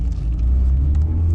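A sports car engine idles while warming up, a deep, steady low rumble close to the microphone across a short stretch with no speech.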